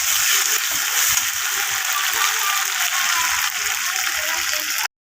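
Chili paste and ginger-garlic paste fry with reddened onions in a pan for a potato and eggplant curry, making a dense, steady hiss with faint scraping of stirring, then cutting off abruptly just before the end.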